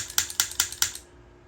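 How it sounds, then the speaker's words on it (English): Mechanical clicks from an open-bolt semi-auto M11 as the trigger is pulled and the disconnector drops off the sear; a quick series of sharp, close metallic clicks, then quiet. "That is the sound of the disconnector falling off of the sear."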